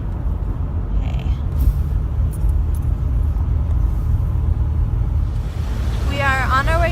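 A low, steady road rumble fills a car cabin as it drives along, with a faint voice near the end.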